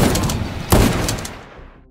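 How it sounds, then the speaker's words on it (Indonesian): A short burst of gunfire, a loud crack followed by a few rapid shots, ringing out then fading into a decaying echo. "Di tengah tembakan yang terjadi,"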